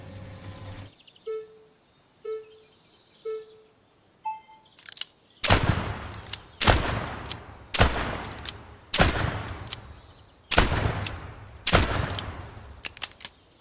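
Video game gun emptying a single magazine: after a few quiet menu beeps, seven loud evenly spaced shots ring out about a second apart, each with a ringing tail.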